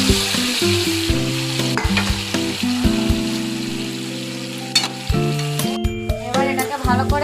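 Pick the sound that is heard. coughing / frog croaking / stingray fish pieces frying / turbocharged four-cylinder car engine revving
stingray fish pieces frying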